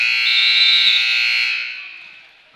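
A loud, steady electronic buzzer sounds at the end of a quarter in a high school girls' basketball game, holding for about a second and a half before fading out, with no crowd or voices evident.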